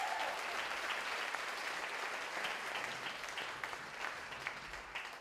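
An audience at St Eugene's High School's Music Mania show applauds the school band after its performance; a thick, steady wash of clapping holds throughout and eases slightly toward the end, with a faint voice briefly at the start.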